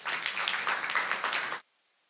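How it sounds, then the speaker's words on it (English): An audience at a lecture applauds a guest, a dense, even wash of many hands clapping for about a second and a half before it cuts off abruptly into near silence. "Let's give her a round of applause."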